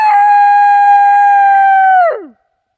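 A person imitates an animal howl with a loud, sustained, steady voiced tone that ends in a quick downward slide, with nothing else heard around it.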